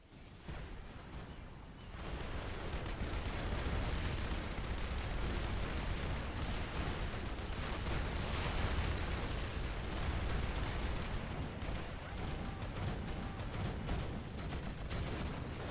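Mortar fire and explosions in Rise of the Reds, a dense continuous rumble of distant blasts and gunfire from a large battle, steady and muffled with no talk.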